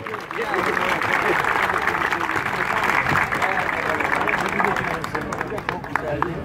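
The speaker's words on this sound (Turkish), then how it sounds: "Evet, alkışlıyorum." Applause from an audience for a girl's poem recital at a commemorative event, a dense crowd clapping loudly and steadily with voices and murmuring mixed in, easing slightly near the end.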